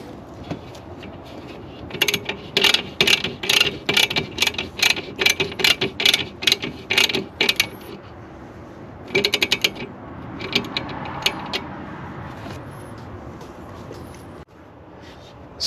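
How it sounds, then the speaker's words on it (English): A hose clamp tightened with a ratcheting tool onto a K&N cold air intake tube on a 2007 Dodge Ram 1500 5.7 Hemi gives rapid, loud bursts of close mechanical clicking, then a shorter burst, then quieter handling noise. "Using the provided hose clamp, secure the K&N intake tube to the saddle bracket assembly."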